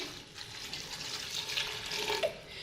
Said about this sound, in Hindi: इसके बाद हम इसमें तकरीबन 2 गिलास जो है ना वो पानी के डाल रहे हैं